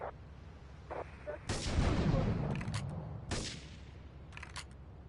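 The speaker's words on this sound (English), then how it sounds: "Investigate reports of gunfire and explosions." Several loud, sharp blasts and bursts of gunfire with explosive booms in the video game GTA 3 Definitive Edition at Portland Harbor, separated by brief gaps, over a low rumbling background.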